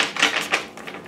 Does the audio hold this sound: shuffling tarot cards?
yes